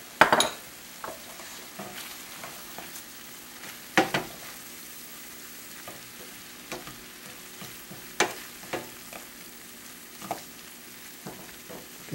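Flour cooks in a pan for beef stroganoff, a soft steady sizzle broken by a handful of sharp scrapes and clinks as a utensil stirs against the pan, with no talking.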